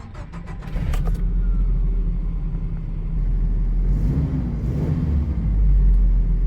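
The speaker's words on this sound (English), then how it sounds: "As we can see, truck starts no problem." A Nissan Hardbody pickup truck bought at auction cranks briefly and catches, then settles into a steady, loud, close idle rumble with a slight rise in revs near the end.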